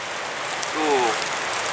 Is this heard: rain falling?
yes